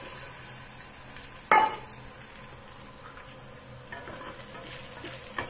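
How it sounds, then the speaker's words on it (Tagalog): Garlic and shallot fry in a pan with a faint, steady hiss, and one clattering stir near the start stands out above it. "So ngayon i-fry na natin ang garlic at saka shallot"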